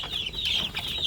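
Young chicks, some hatched by a hen and some from an incubator, peep in a continuous high chirping chorus, fairly close, with no talking.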